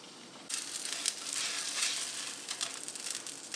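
Rice cakes frying in a little oil in a pan give a steady hissing sizzle that starts abruptly and carries on close and even, with light crackles throughout.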